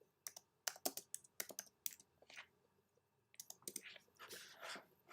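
Rapid typing on a computer keyboard, bursts of sharp close clicks in quick runs with brief pauses between them, quiet overall with no speech.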